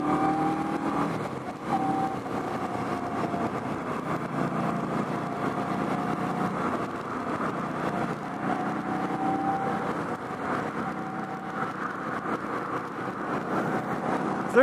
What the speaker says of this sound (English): so you can hear the engine now.